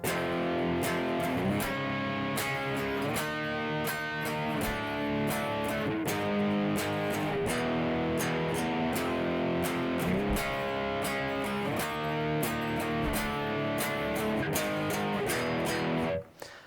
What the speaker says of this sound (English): there's a really cool, really different guitar part that comes in,